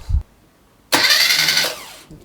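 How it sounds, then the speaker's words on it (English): A car engine with a suspected no-run fault is cranked over during a DIY spark test, a loud, steady burst lasting about a second before it stops, with no talk over it. "Then what we want to do is turn the engine over a couple of times"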